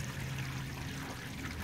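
Grey water from an RV holding tank drains through a sewer hose as a steady, faint rushing pour that flows continuously with no breaks and no voices.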